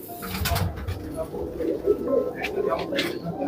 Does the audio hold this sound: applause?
no